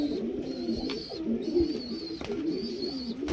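Black pigeons cooing close by, repeated soft throaty coos in a rhythmic pattern with faint higher background tones.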